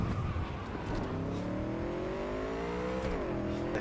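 A car in Cyberpunk 2077 drives off with a rising engine drone that climbs through the gears, dips briefly and builds again, close and steady, with faint tire noise beneath it.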